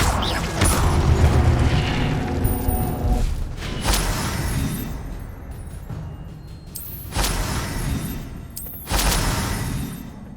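The Incendio fire spell is cast in the video game Hogwarts Legacy. A dense, noisy whoosh of magic effects carries several sudden bursts and impacts, loud and close, with game sounds filling the whole stretch.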